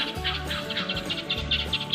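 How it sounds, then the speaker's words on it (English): Repeated harsh, scratchy guinea fowl calls chatter over a low droning background on a homestead, with bursts of calling throughout. "You hear the guineas, you hear the mourning doves"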